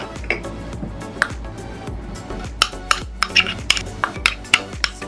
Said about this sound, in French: J'ai le goût de mixer mes 3 ingrédients hydratants